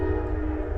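A passing train sounds its horn in one brief, loud, steady blast over a low rumble, with no voices.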